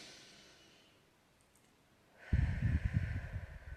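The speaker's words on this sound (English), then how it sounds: "take a deep breath in" A slow, quiet, airy inhale is followed by a louder, rushing breath out close to the listener, with no talking.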